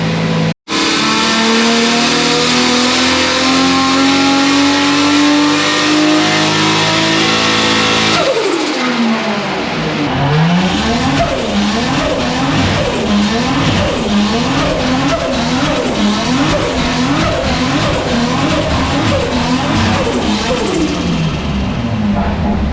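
A turbocharged Nissan S14 Silvia screams on a dyno, its tuned engine revving hard for about eight seconds, then dropping into a loud, choppy run of repeated rises and falls in pitch, with no speech over it.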